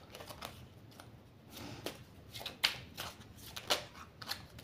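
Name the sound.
cutting and shuffling a deck of oracle cards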